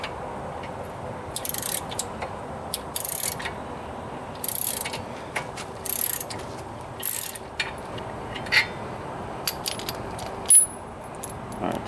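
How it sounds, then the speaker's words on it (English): A ratchet wrench clicks in short, irregular bursts close by while working on front brake rotor replacement on a GMC Acadia, Chevrolet Traverse or Buick Enclave, with quiet pauses and faint background hum between the clicking spells. "Here's a ratchet."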